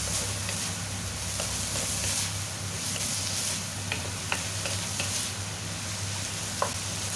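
Minced pork sizzles and fries steadily in a hot pan, with a dense continuous crackle and occasional small pops and stirring clicks, close and alone without voices.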